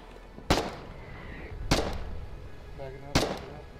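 Artillery fire in the war video game Foxhole: three heavy booming shots spaced about a second apart, each a sharp loud blast with a decaying tail, over low background rumble.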